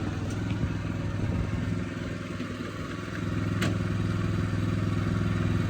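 Hecht 2650 dumper's engine runs steadily while driving, a continuous low mechanical drone with a faint clatter, close and alone without talk.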